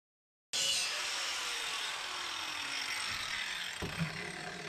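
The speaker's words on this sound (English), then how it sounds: "I moved outside to do some more grinding today." An angle grinder working metal welds outdoors, a steady, loud, high-pitched whine and grinding hiss that starts abruptly after a brief silence and carries on unbroken, with a slight drop in pitch under load.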